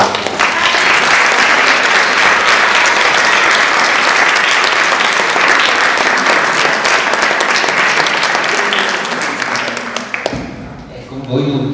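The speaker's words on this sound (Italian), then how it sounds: "chiedo di fare un altro applauso a Ivelio per la ristorazione" A school audience gives loud, sustained applause, a dense clapping roar that holds for about ten seconds and then drops away quickly, leaving a few scattered claps and room noise.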